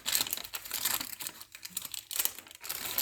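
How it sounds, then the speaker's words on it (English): Scissors cutting a small paper flap for a metal rim tag craft: close, crisp snipping and crinkling in short bursts with brief pauses, and no talking. "I'm going to cut this little flap here."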